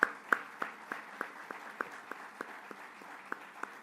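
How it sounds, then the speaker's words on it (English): Applause from the audience at the CAF Awards 2022 ceremony honouring King Mohammed VI: fairly faint, sparse claps landing in a steady, almost metronomic rhythm, with a few sharper strikes near the start. "Can we all stand up and clap hands in humility?"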